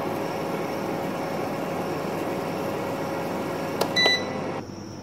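A mixer grinder whirs steadily at high speed grinding roasted garam masala spices for several seconds, then a couple of beeps sound and the whirring cuts out.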